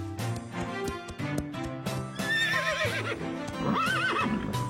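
Cartoon horses whinny in high, wavering neighs over a quick rhythmic clip-clop of hooves, loud and close with no talking.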